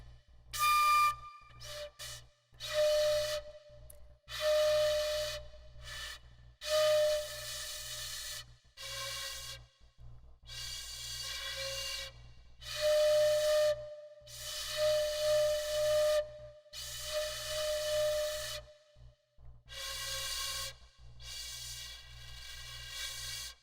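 A shinobue, a Japanese bamboo flute, plays a slow series of sustained breathy notes separated by short pauses, close and fairly loud over a low steady hum.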